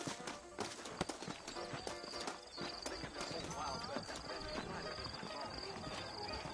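Steady clip-clop of saddled horse hooves in the video game Red Dead Redemption, with an occasional whinny, set against a busy background with talking voices throughout.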